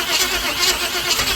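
A 388 stroker engine in an S10 Blazer cranks over in a close, loud, rapid rhythmic churn, the starter turning the motor without it catching.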